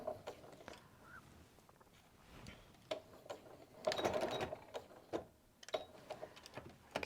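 A sewing machine stitches curved quilt piecing in faint, uneven bursts of whirring and clicking, broken by short pauses as the fabric is guided.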